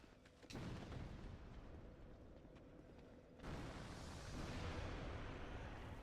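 Bomb blasts in the video game Dark Souls 2, a sudden loud boom followed by sustained rumbling, then a second heavier burst of explosive roar midway, filling the whole span with dense noise.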